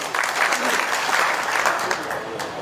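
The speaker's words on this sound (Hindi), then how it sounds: "संजय बेनीवाल जी, जोरदार तालियों से स्वागत।" Steady, dense applause from a crowd welcoming a speaker fills the whole stretch, loud and continuous.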